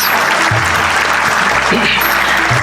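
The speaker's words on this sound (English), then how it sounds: "Please give a big round of applause, my dear parents." Audience applause at a school annual day prize distribution, a steady dense clapping of many hands filling the hall throughout, with faint voices mixed underneath.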